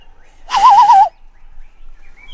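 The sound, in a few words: bird calling in a played video clip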